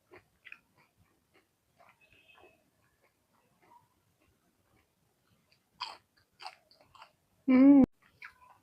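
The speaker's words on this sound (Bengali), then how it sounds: "আর আমি এখন মজা করে রান্না করে খাচ্ছি" Someone chews crispy fried wetland fish with rice close to the mic, with sparse crunchy bites separated by quiet pauses and a short voiced murmur near the end.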